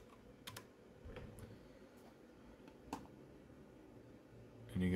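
Keystrokes on a computer keyboard during an online search, a scattering of faint, quiet clicks at close range with a brief louder rustle near the end.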